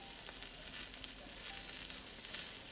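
Kebab skewers sizzle steadily on a grill, a soft continuous hiss and crackle with faint clicks, heard alone without talk.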